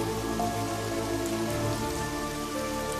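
Steady rain pours down over a village in an animated story, a dense, even hiss of drops drumming on surfaces with no voices.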